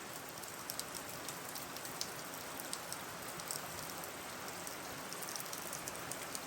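Water drips and trickles steadily from a rock outcropping in a north Georgia creek setting, a dense patter like light rain on stone, close and continuous with no voices.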